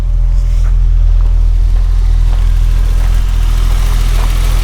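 A steady, low engine idle of a BMW E30 Touring after a cold start runs continuously at close range, a smooth rumble with a faint mechanical tick and no voices over it.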